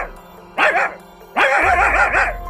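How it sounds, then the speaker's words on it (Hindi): A dog barking in a Hindi-language story scene, two loud bursts of harsh barks close by, the second longer and more sustained, with a low rumble beneath; the narration suggests a person may be voicing the barks. "अरे ये कुत्ता कहाँ से आ गया?"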